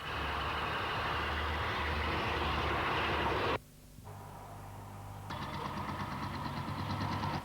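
A Warship diesel locomotive departs Paddington in the late 1960s, its engine a loud sustained roar that cuts off abruptly. A quieter drone follows, then a pulsing engine note builds again.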